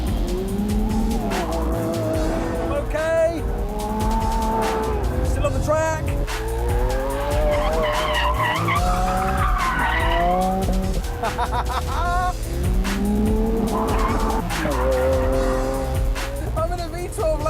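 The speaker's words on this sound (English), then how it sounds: "I'm in a V12 Lambo. I just threw it at a corner at insane speed and it went round." Lamborghini Aventador V12 screaming through a high-speed corner on a track, loud engine note rising and falling through gear changes with tire squeal, continuous and close throughout.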